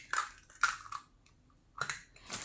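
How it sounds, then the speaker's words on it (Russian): A single chicken egg cracked for a pork rib marinade, with a few short, crisp cracking clicks and crunches up close, separated by brief pauses, with no talking. "Разбиваю одно куриное яйцо"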